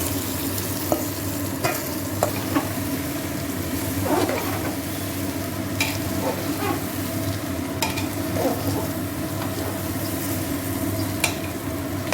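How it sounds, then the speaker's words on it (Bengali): Rice sizzles steadily in hot oil with bay leaves inside a pressure cooker for Basanti pulao, a constant close frying hiss broken by occasional light scrapes of stirring, with no talk. "চালটা ভাজা হচ্ছে"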